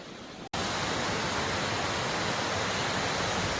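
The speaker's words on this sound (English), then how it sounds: "this is a storm up here." Strong storm wind roars across the summit of Mount Monroe in New Hampshire, a loud, dense, continuous rush that bursts in after a short quieter moment and then holds steady.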